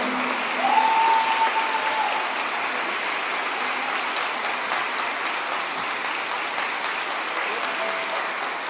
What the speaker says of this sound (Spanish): Le aplauden aunque saben que está mintiendo